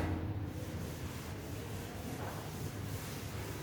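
A classroom board is rubbed clean with steady, scratchy back-and-forth strokes that run for a few seconds, close by, with no one talking.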